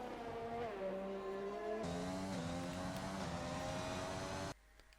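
Racing-game cars at Abu Dhabi scream past in a steady high-pitched engine whine, pitches shifting through gears, before cutting to near quiet at the end.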